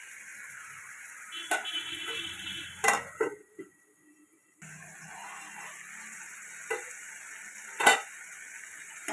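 Vegetable pieces, tomato among them, fry in a pan for an egg and drumstick curry, giving a low sizzle broken by utensil clatter and stirring knocks, with a brief quiet gap midway.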